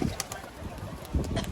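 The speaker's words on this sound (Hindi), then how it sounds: "ये कबूतर आके बैठ चुके हैं।" Pigeons settled on a rooftop give soft, low cooing calls in brief bursts at the start and near the end, with faint background noise between.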